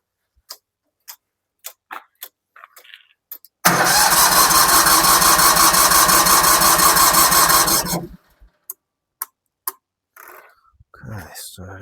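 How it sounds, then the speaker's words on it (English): The small engine of a new radio-controlled flail mower roars loud and steady for about four seconds after a few sharp clicks, then cuts off, followed by quiet scattered voices. "Okay, I'll try bringing the revs up a little bit."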